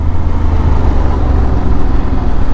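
A motorcycle rides along a road in Namibia on the way to a national park, its loose drive sprocket working free, the engine a steady loud low drone with wind rumble throughout, no voices.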